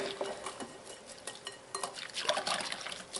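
Rye and bread flour dough being stirred in a bowl, a steady scraping and clinking of utensil against the bowl with irregular bursts, moderately loud and close, no talking.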